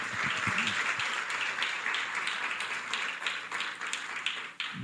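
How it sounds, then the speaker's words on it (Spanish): A church congregation applauds during a Spanish-language worship service, producing sustained, moderately loud clapping from many hands with scattered sharper claps throughout. "¿Cuánto le dan otro aplauso al Señor en esta hora?"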